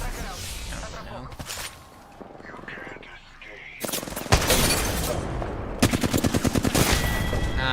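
Bursts of sniper and automatic gunfire in a video game, with sharp cracks and rapid volleys that grow loud and close in the second half, mixed with game noise and a voice talking.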